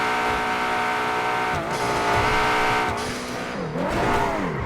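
An Aston Martin in a video game accelerates hard toward 300 km/h, its engine a loud, continuous high-revving whine that climbs steadily and dips briefly at each gear shift, with no voices over it.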